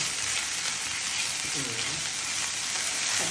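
Curry with grated coconut paste sizzles and fries in a pan, a close continuous hiss with a few soft scraping stirs.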